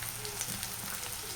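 Ginger paste frying in hot oil in a pan, a steady, even sizzling hiss held close and constant throughout, with no talking.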